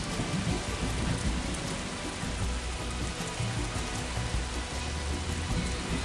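Steady heavy rainfall in a level of the video game TimeSplitters 2, a dense continuous hiss with low rumbling underneath, even in loudness throughout and without voices.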